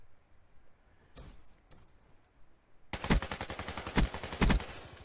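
Rapid bursts of AK-74u automatic fire in Black Ops 3 gameplay, a few faint shots early on, then a loud, dense volley of repeated shots near the end.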